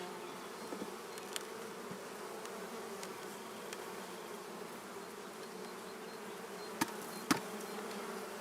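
Honey bees buzzing around a large sun-warmed hive in an apiary in early spring, a steady low drone of many insects with faint distant knocks now and then.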